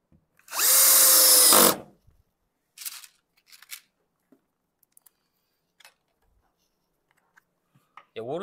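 An electric screwdriver drives screws during electrical wiring work for a practical electrician's exam, with one loud whirring burst of just over a second, then scattered faint clicks and handling noises and a brief sound at the very end.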